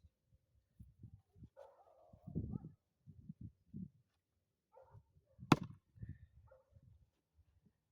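A dog barks a few times in the distance, faint and partly masked by heavy, irregular thuds of twisted, gnarled firewood being chopped close by.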